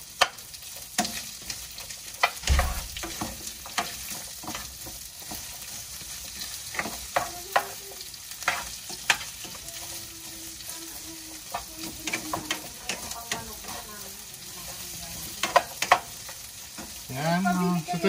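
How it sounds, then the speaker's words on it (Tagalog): Onion frying in a pan, sizzling steadily throughout while a utensil scrapes and stirs in repeated bursts, with no talk over it. "Ito naman ang lulutuin natin sa sibuyas na to."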